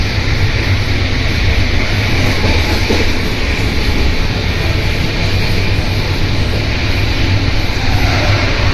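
Inside a Vistadome coach of a passenger train running from Bardhaman, a loud, steady rumble and rushing roar fills the space without a break, with no voices over it.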